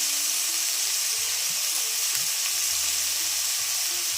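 Onion and pumpkin frying in a pan over a wood-fired clay stove, a loud, continuous close sizzle with steady hissing and low crackle, no voices.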